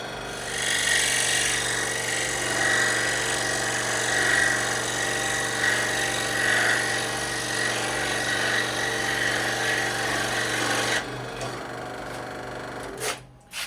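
A power tool cuts a small radius piece off a wooden stair scroll, producing a steady, loud, high-pitched whine with a buzzing rasp for about eleven seconds before it stops, followed by a few faint clicks.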